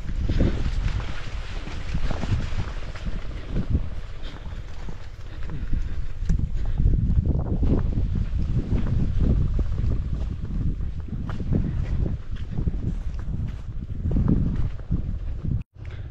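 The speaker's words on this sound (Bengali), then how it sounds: "বাতাস বইছে" Wind gusts across an open cropland char on the Jamuna river in late winter, loud and blustery with buffeting rumble on the microphone throughout.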